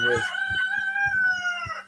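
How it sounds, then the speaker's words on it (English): A rooster crows loudly and close by in one long, drawn-out call that lasts nearly two seconds, with faint low bumps of background noise running underneath it. "sorry about the rooster"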